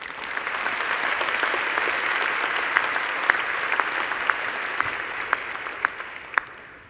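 Graduation audience applauding engineering graduates of the Department of Civil and Environmental Engineering, a steady, sustained wash of clapping from a large crowd with a few sharper nearby claps standing out, fading slightly at the end.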